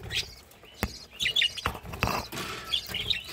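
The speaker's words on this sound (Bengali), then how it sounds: "অলরেডি এখানে কিচিরমিচির শব্দ শোনা যাচ্ছে।" Small caged birds chirping in quick, scattered bursts, high bright calls overlapping with a few soft clicks and rustles between them.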